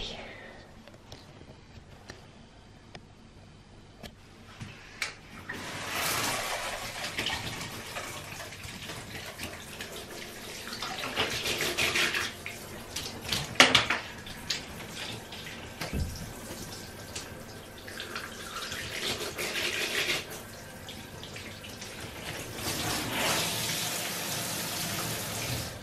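Water runs and splashes over bathroom tiles while dirty grout is being cleaned, a steady faucet-like rush with surging, gushing pulses over about half a minute, close by, with a person talking at times.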